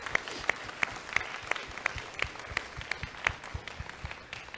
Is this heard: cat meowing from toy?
no